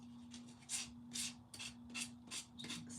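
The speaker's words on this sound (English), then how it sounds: "Just easily sand off the edges." Edges of a craft piece being sanded by hand after heat-tool work: quiet, close, rhythmic rasping strokes, about seven sweeps back and forth over a low steady hum, with no voices.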